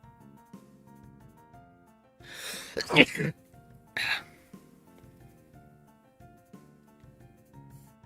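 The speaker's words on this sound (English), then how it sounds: "Now I need to sneeze." A person sneezes sharply during a livestream of Pokémon Xenoverse, with two loud bursts close to the microphone over soft, steady game music.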